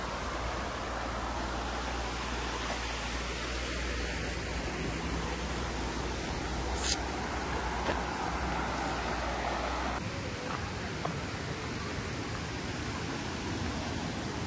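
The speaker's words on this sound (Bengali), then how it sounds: "পানির শব্দ হয়তো শুনতে পাচ্ছেন।" Flowing water in a Swiss village, near a waterfall: a constant broadband rush, steady and moderately loud, with a low rumble that drops away partway through and a couple of faint brief knocks.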